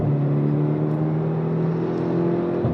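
A 2012 VW Golf GTI MK6 engine revs steadily with a sustained, droning tone that holds under load through a gear change, heard close and loud with no talking.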